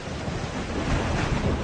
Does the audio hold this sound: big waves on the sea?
yes